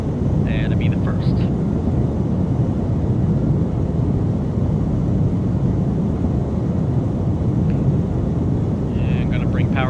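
Twin piston engines of a Flysimware Cessna 414 in Microsoft Flight Simulator drone steadily as a loud, continuous low roar throughout, with faint higher tones near the start and end.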